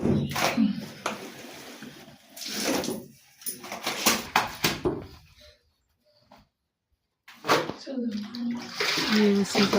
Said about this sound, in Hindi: ये उसी का कुछ कपड़े मैं डाली थी, तो वही धो रही हूँ।